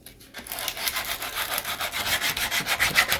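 Wood is hand-sanded in quick rhythmic back-and-forth strokes, each pass a bright scratchy rasp, steady and close, with no talk.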